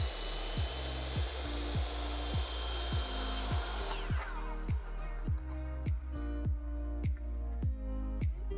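Handsaw cutting a mitre in a wooden skirting board, with close, steady back-and-forth strokes in an even rhythm. The rasping grows more distinct and clicky toward the end as the cut nears completion, with no talking.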